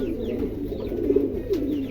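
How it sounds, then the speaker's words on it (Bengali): A pair of domestic pigeons, a yellow male and a blue female, give soft, low, rolling coos close by over a steady background murmur. "এখানে দুটা কবুতর আছে হলুদটা হচ্ছে মেল"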